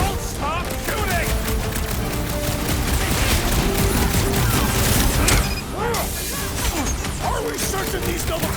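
Gunfire from Marvel's Guardians of the Galaxy crackles in dense, rapid bursts amid crashes and game effects, continuous and loud, with voices speaking over the combat.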